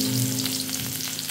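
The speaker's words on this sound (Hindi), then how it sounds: "तो मैं प्याज डाल लेता हूँ थोड़ा सा" Onions hit hot oil in a pan and sizzle steadily up close, a dense crackling hiss with no talk over it.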